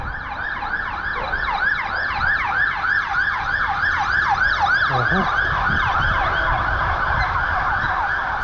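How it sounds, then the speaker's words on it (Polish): A fire engine siren wails loudly in a fast repeating up-and-down pattern, close by and passing on a city street, with a low rumble of road traffic underneath. "straż pożarna, gdzieś się pali"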